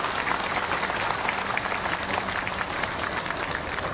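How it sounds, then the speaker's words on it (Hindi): Loud, sustained applause from a large audience at a political rally in Bhopal, Madhya Pradesh, a dense even wash of clapping filling the whole stretch with no break. "आदरणीय श्री रविंद्र जी से आप सबकी जोरदार तालियों के साथ मैं उनको आमंत्रित करूंगा।"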